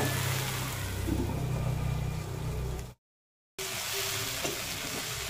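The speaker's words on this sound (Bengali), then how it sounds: "ঢেঁড়সটা ভালো করে ভেজে নিতে হবে" Okra frying in a pan for a Bengali okra and shrimp dish, a steady close sizzle with stirring and a low hum, broken by a short dead gap before the frying noise resumes.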